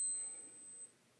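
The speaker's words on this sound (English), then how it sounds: "Our alarm functionality has started to chime" Seiko SNA411 Flightmaster wristwatch alarm chiming, a faint high-pitched electronic beep tone fading out within about a second, close and quiet.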